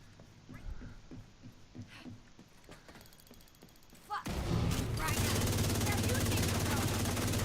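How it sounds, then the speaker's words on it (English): Gunfire in The Division 2, with bursts of sharp shots in the first half, then a dense continuous roar of heavier firing and action sounds that stays loud to the end. "Stop shooting at me."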